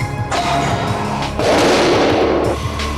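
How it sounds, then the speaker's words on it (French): A gas-powered gun with a barrel over 18 metres long fires an ice ball held in a polystyrene capsule, giving two heavy, booming blasts about a second apart, each loud and rumbling. "Le canon du pistolet mesure plus de 18 mètres et peut lancer des projectiles à la vitesse de 1450 km/h"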